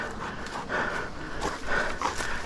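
Hunting dogs pant after chasing a hog in a gully, rapid rhythmic breaths close by, mixed with rustling and faint snorts in the background.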